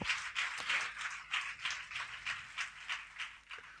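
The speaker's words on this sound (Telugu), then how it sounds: "గట్టిగా చప్పట్లు కూడా దేవుని నామాన్ని స్తుతిద్దామా." A church congregation at a Friday fasting prayer claps loudly and rhythmically in praise, with a steady run of close, sharp claps and no talking over it.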